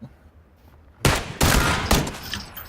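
M16 rifle fire in the video game PlayerUnknown's Battlegrounds: three loud, close shots crack out after a quiet start, each followed by a brief ringing tail.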